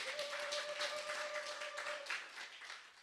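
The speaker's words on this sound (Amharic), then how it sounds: "አጨብጭቡ ለኢየሱስ ክብር" A church congregation claps for Jesus, a faint, steady wash of many hands applauding together at some distance, with a sustained tone underneath for the first two seconds and no clear speech.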